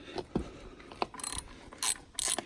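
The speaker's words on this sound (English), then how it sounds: "you're gonna use your 1/2 inch socket" A ratchet wrench fitted with a 1/2 inch socket works a cover bolt on a Caterpillar D-Series skid steer loader, giving a few short clicking bursts and some louder ratcheting passes, close up and with no talking.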